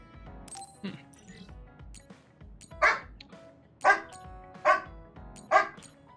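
A video game dog barks four times in a regular rhythm, sharp and close, with a faint electronic hum underneath.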